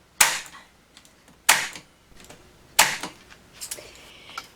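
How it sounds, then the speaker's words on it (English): Staple gun driving staples through upholstery fabric on a DIY cocktail ottoman, three sharp loud snapping shots spaced about a second apart, then softer handling clicks. "And then staple that into place."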